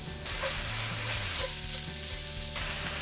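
Chopped onions sizzle in a pan for egg kothu chapathi, a bright continuous frying hiss with a few stirring knocks, close and unaccompanied by talk.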